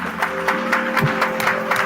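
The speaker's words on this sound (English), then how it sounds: "please give them a round of applause" Hall applause for the partners at a community sacred-space project event, a brisk run of fairly rhythmic claps from a crowd, moderately loud, with a low steady hum beneath.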